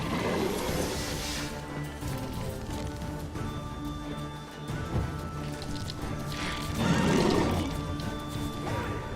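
Horse in The Witcher 3 video game snorting and whinnying amid a dense, continuous game soundscape, with a louder burst of activity near the end.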